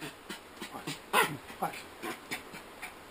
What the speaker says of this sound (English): Once again, Emmy Emerton, the happiest dog in NATO